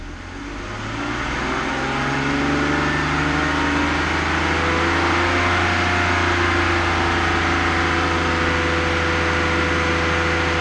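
A car engine with a vacuum leak rises from idle and is held at a steady elevated speed around 2,500 rpm, a continuous loud mechanical drone with a low hum and no talking.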